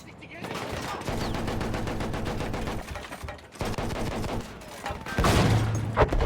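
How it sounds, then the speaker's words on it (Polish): Dense gunfire fills a Battlefield 1 battle during a town defense. Rapid machine-gun bursts rattle almost continuously, break briefly, then resume, with a louder blast near the end. "Jeszcze jeden strzał."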